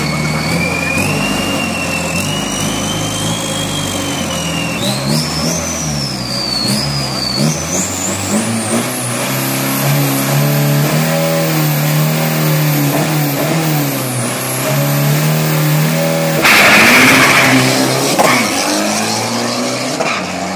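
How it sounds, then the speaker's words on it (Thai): A Pro Turbo 3000 drag racing car with a 46 mm turbo accelerates hard down the strip. The loud engine note climbs steadily in pitch, then a burst of noise follows near the end, with no voices. "พี่หนุ่ยขับนะครับ"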